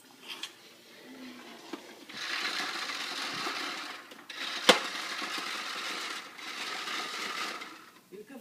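A child's toy vacuum cleaner whirs in bursts, running steadily for a couple of seconds at a time with brief pauses and a sharp click between runs, close by in a room where people talk quietly.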